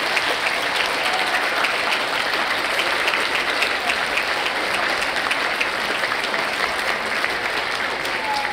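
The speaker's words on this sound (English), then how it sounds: "So give the teachers a big, big round of applause now, everyone." A school anniversary celebration crowd gives the teachers a long, steady round of applause, many hands clapping at an even, dense level from start to finish in a large room.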